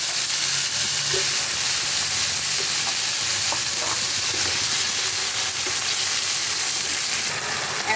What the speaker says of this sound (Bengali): এখন আমি এই শাপলাগুলো এই তেলের মধ্যে ছেড়ে দেব।